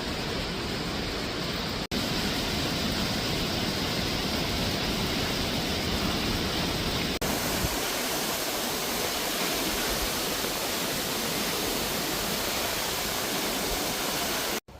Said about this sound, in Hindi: देखिए एक सुंदर और झरना।